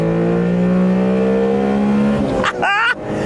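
A tiny open-top Honda Beat sports car engine revs high and strains while driving, loud and close, with a quick drop in pitch near the end as the driver shifts.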